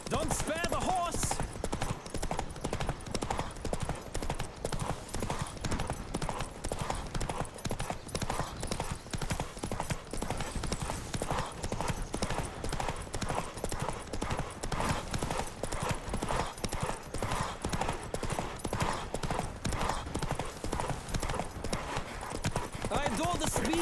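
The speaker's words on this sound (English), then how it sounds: "Don't spare the horse!" Horse hooves gallop in a fast, steady clip-clop rhythm for the whole stretch in The Witcher 3: Wild Hunt video game, loud and close, while voices call out now and then.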